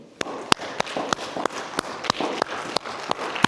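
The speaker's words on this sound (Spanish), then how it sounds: "Vamos, un aplauso al Señor." A church congregation claps in a steady, evenly spaced rhythm. Sharp, distinct beats roughly three per second ride over a soft bed of crowd noise.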